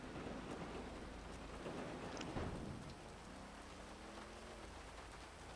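Steady rain pours down during a thunderstorm, with a low rumble of thunder rolling underneath partway through, a continuous wash of sound with no voices.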